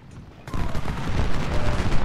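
Cannon fire in the video game Ultimate General: Civil War during the Battle of Richmond, a sudden loud booming volley that starts abruptly and rolls on as a dense, rumbling barrage.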